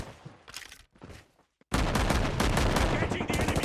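Bursts of machine gun fire in a mobile battle royale shooter game, with a couple of short sputtering volleys, a brief silence, then a loud sustained rattling barrage.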